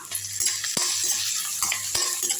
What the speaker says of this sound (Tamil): அடுத்து பச்சை மிளகா பூண்டு பல் பூண்டு துருவல் அதையும் போட்டாச்சு நல்லா வதக்கி விட்டுடலாம்